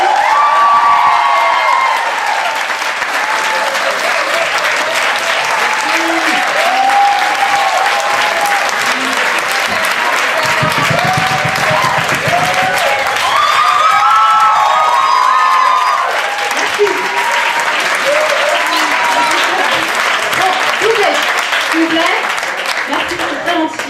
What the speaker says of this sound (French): qu'on peut applaudir très fort parce qu'ils font beaucoup de travail